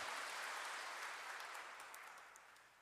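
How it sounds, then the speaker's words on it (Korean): Applause from a Catholic parish congregation at a pastoral council appointment ceremony, a dense wash of clapping that starts full and slowly fades over a few seconds, heard alone without talk. "뜨거운 박수 부탁드립니다."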